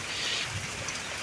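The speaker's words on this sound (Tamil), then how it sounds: "என்ன மழை வந்துருச்சா மறுபடியும்?" Steady rain falls and patters at a home, a continuous soft hiss with no break and no talking over it.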